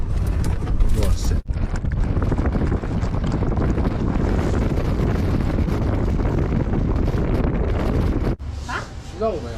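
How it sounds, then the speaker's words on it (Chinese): Strong gusty wind buffets the microphone at an outdoor campsite in Hongliugou town during a high-wind warning, a loud continuous roar that cuts out briefly twice, with a few spoken words near the end. "这几天怎么搞了？怎么这么大风？"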